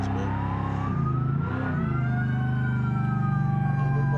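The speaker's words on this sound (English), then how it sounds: "It's very similar to what the CHV actually used in 1969" A 1969-era police car siren in the BeamNG driving game wails in a steady rising and falling tone, loud and close, with no talk.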